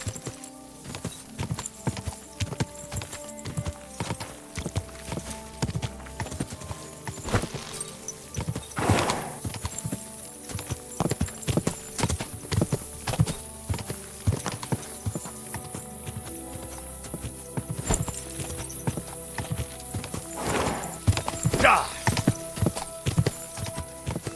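Galloping horse hooves pound steadily in the video game Kingdom Come Deliverance II, a fast continuous rhythm of close, loud strikes under a music bed, with occasional heavier thuds.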